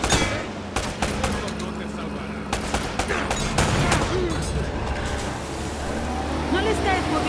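Gunfire in an Uncharted video game crackles in repeated sharp shots and short bursts over a steady engine-like rumble, with some talking in between.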